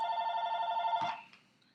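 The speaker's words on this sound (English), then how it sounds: "Telephone." A telephone rings indoors at a homestead, one sustained electronic ring tone that cuts off after about a second, fairly faint, with no speech over it.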